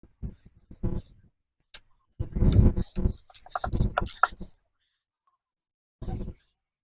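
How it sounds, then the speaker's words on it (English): A ratchet with a half-inch socket works on a rusty 1975 Chevy small block engine, giving close bursts of mechanical clicking and clatter with quiet pauses between, plus some low vocal sounds early on. "Half-inch socket. Get my ratchet."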